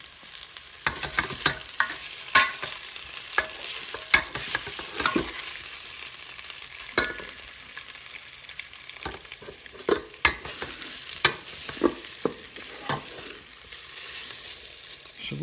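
Flour fries in olive oil inside a rice cooker with a continuous soft sizzle, punctuated by frequent scraping and clicking as it is stirred close up, with no voices.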